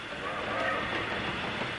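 A steam train runs on rails, a steady mid-level rumble with a faint rhythmic clatter under it, brief and continuous.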